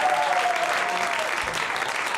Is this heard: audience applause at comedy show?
yes